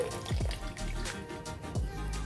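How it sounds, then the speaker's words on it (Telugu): Thin tamarind water trickles and splashes softly into a pan of soya chunk and spinach curry, quiet and continuous, with no voices. "ఇప్పుడు ఇందులోకి కొద్దిగా చింతపండు పులుసు వేసుకోవాలండి"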